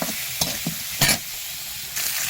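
Stinging catfish curry is stirred in a pan over a fire, with a quiet sizzle broken by several brief scraping strokes of a spoon against the pan.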